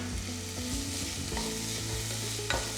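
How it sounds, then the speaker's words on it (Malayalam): Vegetables with salt being stirred in a hot pan for veg pulao, a bright continuous sizzle broken by scraping strokes and a sharp clink near the end, with no voices. "ഈ വെജിറ്റബിൾസ് ചേർത്ത ശേഷം ഞാൻ ഇതിനകത്തേക്ക് വെജിറ്റബിൾസിന് ആവശ്യത്തിനുള്ള ഉപ്പ് ചേർക്കുകയാണ്."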